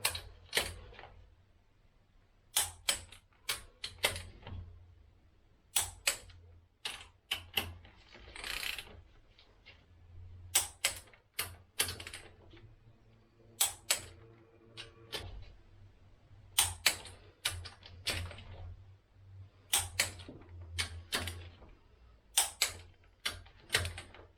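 Cylinder head bolts on a Peugeot 106 Sport being tightened by hand during a head gasket replacement; a steady series of close, sharp ratchet clicks and metallic ticks repeats in short bursts throughout.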